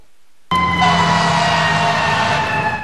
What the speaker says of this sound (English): Lights and sirens, the sights and sounds of an emergency.